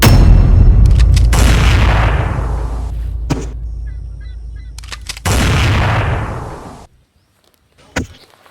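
Gunshot sound effects play in a comedy skit, with loud booming blasts that each trail off into a long decay, separated by quieter gaps and ending with a sharp short crack.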